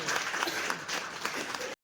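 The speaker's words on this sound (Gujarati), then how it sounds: "જોરદાર તાળીઓ બજાવીએ" Villagers gathered at the opening of a health centre clap energetically for a brief burst, dense and close, before it cuts off abruptly.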